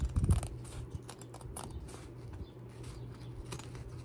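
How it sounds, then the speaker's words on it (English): Scissors snip through fabric around a machine-embroidered cat toy in short, irregular crisp cuts, close and fairly quiet, with a soft rustle in between. "So let me get my scissors."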